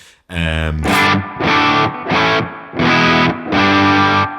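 Old-school distorted rhythm guitar through a Laney amp at the edge of breakup, played as a run of loud sustained chords in separate bursts with brief gaps between them.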